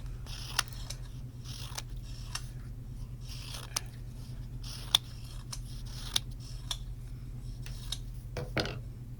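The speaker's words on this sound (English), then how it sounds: "So I just cut some strips of white." Scissors snip strips of white paper for paper-mouse whiskers, sounding as a series of crisp, separate cuts, close and fairly quiet over a low steady hum, with no talking.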